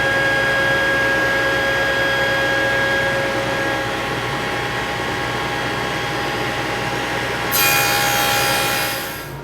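A saw cuts a cedar board on a small saw sled for a garden potting bench. A loud, steady power-saw drone with a whining tone runs throughout, brightening near the end as the cut finishes, then tapering off.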